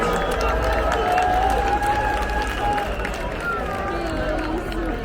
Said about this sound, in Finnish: Annetaan iso aplodit!